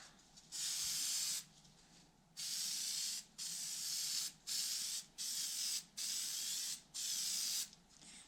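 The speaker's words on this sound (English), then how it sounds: "12 inches from foam and spray both inner and outer surfaces" Oil sprays in eight hissing bursts of varying length onto a foam air filter for a 1976 Suzuki GT750 motorcycle, each burst loud and close with short quiet gaps between.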